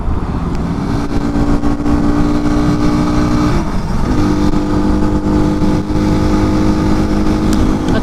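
A Fantic Casa 250 EFI motorcycle pulling uphill, its single-cylinder engine droning loud and steady with a brief dip midway before the pitch holds again, heard close from the bike itself.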